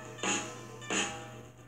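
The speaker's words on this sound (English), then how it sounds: "This is the snare drum." Two sharp snare drum hits from a drum kit, spaced about half a second apart, each with a bright crack and short ringing decay, close and fairly loud with no talking.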